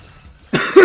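A single close, loud cough bursts out after a near-silent start, followed quickly by a second rougher cough or throat-clearing.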